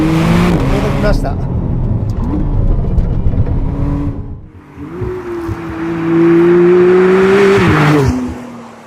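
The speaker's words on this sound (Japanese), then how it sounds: "意外とね、エンジンは高回転型ですね。" A 2025 McLaren Artura revs hard while driving a winding road, its engine tone climbing, dipping and climbing again, loud and close, with a voice talking over parts.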